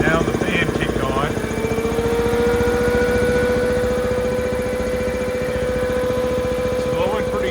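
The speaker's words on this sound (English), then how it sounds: "Now the fan kicked on." An Ingersoll Rand 7.5 HP air compressor's cooling fan kicks on with a loud, steady mechanical drone and a rising whine, with a person talking over it.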